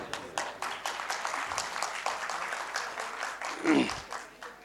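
An audience at a Punjabi gathering breaks into applause after Sufi singing, a brief burst of dense clapping that swells and fades, with a voice briefly heard.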